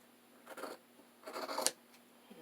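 Scissors trimming fabric for a junk journal: two short, quiet snipping strokes close by, the second longer with a small click at its end, then stillness.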